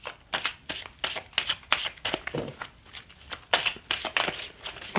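A deck of oracle cards being shuffled during a tarot-style reading, with repeated crisp riffling and slapping bursts at close range, steady and rhythmic without pauses, no voices.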